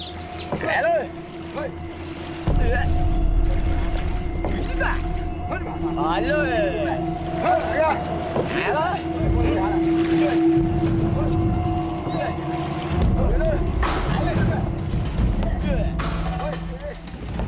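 A wooden whaling boat paddled by a crew on ocean waves, with wind buffeting and water sloshing around the hull, steady and close, while voices talk over it.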